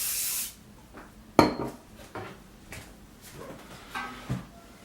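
Hair clippers get a few short hisses of spray, with one sharp burst standing out among soft clicks and rubbing handling sounds. The spraying is close and brief and is separated by quiet gaps.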